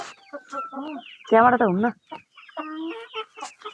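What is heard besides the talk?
chickens clucking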